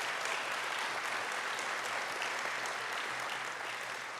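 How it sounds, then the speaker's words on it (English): Audience at a Draft Day event applauds in a steady, dense wash of clapping that holds at full strength throughout, with no voices rising above it. "Let's give them a round of applause."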